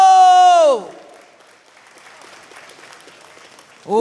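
At a boxing event, a crowd applauds a boxer from Kyiv, a sustained wash of clapping lying under and between an announcer's amplified voice at the start and end.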